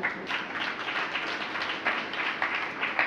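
An audience at a religious discourse claps together in a dense, steady round of applause that holds for several seconds at moderate loudness.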